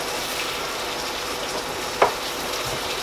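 Minced beef sizzles and crackles steadily in a hot pot for spaghetti bolognese, with one brief scrape or stir partway through.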